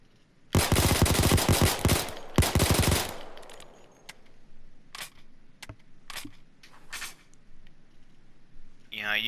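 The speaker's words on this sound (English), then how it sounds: "Test 2, I'll fire the weapon without controlling the recoil." A Beretta 92 pistol in Payday 2 fires in two fast, loud bursts of rapid shots early on, followed by scattered single shots and clicks, with a brief spoken aside near the end.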